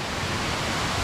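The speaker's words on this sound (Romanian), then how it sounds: "Da, asta e cascada." A waterfall roars as a steady, dense wash of falling water close by, continuous and loud with no pauses or voices.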